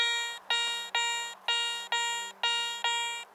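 Garrett Ace 400i metal detector sounding over a shrapnel ball: seven clear, evenly spaced electronic beeps, each a bright harmonic tone about a third of a second long that fades slightly, repeating steadily and close up.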